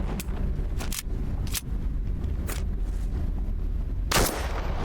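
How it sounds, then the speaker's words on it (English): Gunfire from weapons in the video game Into The Radius 2: several sharp single shots spaced irregularly, ending with one louder, longer blast, close and crisp over a quiet background. "firing the weapons in this game is stupidly satisfying"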